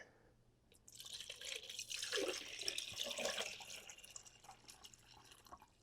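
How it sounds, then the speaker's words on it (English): Water pours into a plastic ice ball maker container for a few seconds, a soft splashing rush that swells and then tapers off, fairly quiet and close. "put our water in here."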